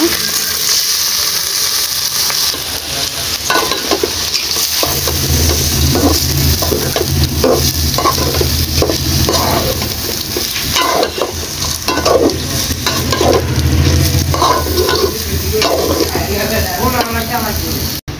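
Raw rice sizzles in a hot pan and is stirred over and over. Scraping, rustling strokes repeat in an uneven rhythm over a constant close hiss of frying.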